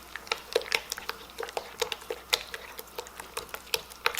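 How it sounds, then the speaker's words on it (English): Strawberry banana jam mixed with pectin, lemon juice and butter is stirred in a pot, giving a close, quiet series of irregular scraping and wet clicking strokes throughout. "Again, we're going to stir it up."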